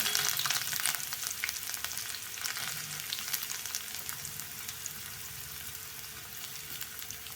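Steady, crackling sizzle of finely chopped onions sautéing in a hot pan, fairly close and continuous, with faint stirring underneath.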